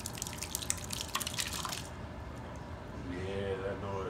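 Squeezed rice wine sake drips and splashes wetly into a vessel, a run of small irregular plops that turn to a steadier trickle near the end, close by, with some background murmur.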